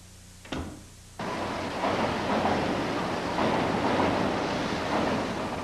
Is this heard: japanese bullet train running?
yes